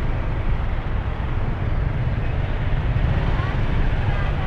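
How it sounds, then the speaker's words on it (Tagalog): Dense street traffic in the Philippines heard from a motorbike, a constant low engine and road rumble with wind buffeting, and a voice speaking over it. "Tignan nyo naman gaano ka-traffic dito."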